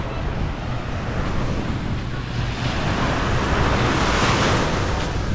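Sea waves wash steadily onto a beach at El Nido, a continuous broad rushing surf that swells slightly louder toward the end, mixed with wind buffeting the microphone and no clear talk.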